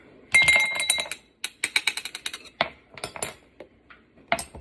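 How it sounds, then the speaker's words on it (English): A spoon clinks and scrapes rapidly inside a cup while coffee is stirred together with Nutella, loud and close, a busy run of metallic rattles and taps broken by brief pauses, with no voices. "I need to mix this quickly."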